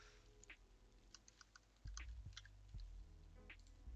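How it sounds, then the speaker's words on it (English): Computer keyboard typing during Unity 3D work, a quick uneven run of light clicks, some spaced, others close together, fairly faint and alone with a low hum underneath. "Does my keyboard work?"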